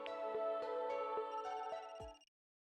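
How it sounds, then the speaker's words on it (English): A telephone rings in the video game Another Code Recollection, a steady electronic ringtone with repeated pulses over a musical tone, fairly quiet, running for about two seconds and then cutting off. "That's the phone."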